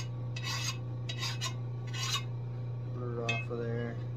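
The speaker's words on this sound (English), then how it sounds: "So anyway, just want to file it." A hand file rasps a burr off a commercial lawn mower blade in several short, gritty strokes close by, followed by a couple of light metallic clinks, all over a steady background hum.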